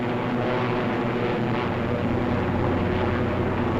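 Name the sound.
WWII Thunderbolt fighter planes flying and climbing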